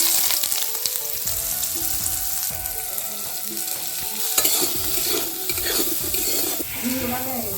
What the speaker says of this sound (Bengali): সরষের তেল ভেজে নিব সয়াবিন